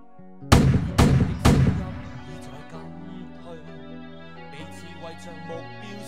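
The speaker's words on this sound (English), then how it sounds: "More gunshots?" Three sharp, loud gunshots ring out in quick, evenly spaced succession in a video game, followed by softer tonal game music and effects.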